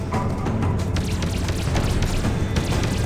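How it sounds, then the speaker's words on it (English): A mine blows up straight out of its launcher in the space game Freelancer, heard as a sustained, loud booming rumble with a crackling, noisy tail that fills the whole stretch. "detonated your mine right out of the launcher"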